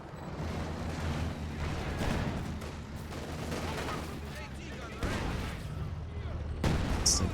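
An artillery barrage in a strategy video game, with repeated thuds and crackling gunfire layered over a steady battle rumble, loudening toward the end.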